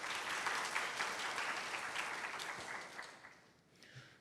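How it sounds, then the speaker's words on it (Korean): An audience claps at an academic radiology conference, a dense patter of applause that holds steady for a few seconds and then thins out and fades. "큰 박수 부탁드리겠습니다."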